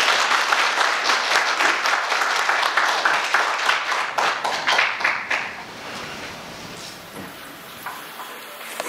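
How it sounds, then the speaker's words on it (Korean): Audience applause at an anniversary ceremony for a regular delegates' convention, dense and steady clapping that thins out into a few scattered claps. "큰 박수도 부탁드리겠습니다."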